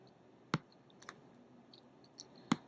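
Computer mouse clicks on a website link: two crisp, close clicks about two seconds apart, with a couple of fainter ticks between them over a quiet room hiss.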